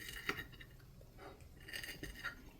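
Cutlery cutting into a pan of shakshuka with cheese, producing a few soft, close clinks and scrapes of metal against the pan, quiet and sparse with pauses between touches.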